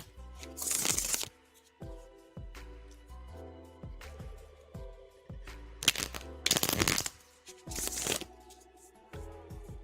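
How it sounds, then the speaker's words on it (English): Tarot cards being riffled and shuffled up close in a quiet room, repeated crisp bursts of flapping cards separated by softer taps and handling noises. "Queen Libra, I'm shuffling for you now."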